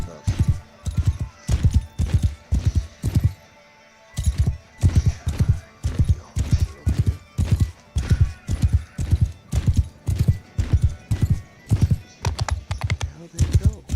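Rapid, steady hoofbeats of a galloping horse in Mount and Blade Bannerlord thud in a regular rhythm, loud and close, pausing briefly before resuming.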